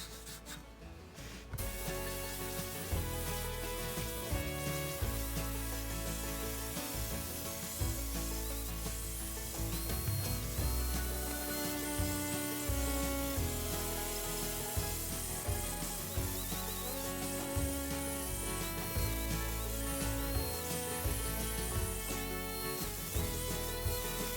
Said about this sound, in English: That's why I love the angle grinder.